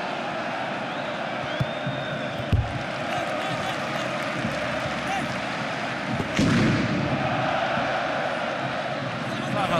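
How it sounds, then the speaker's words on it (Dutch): Fireworks bang during an FC Utrecht versus Ajax football match in a stadium, with two sharp booming bursts at separate moments standing out over a steady roar of crowd noise and voices. "het volgende stuk vuurwerk"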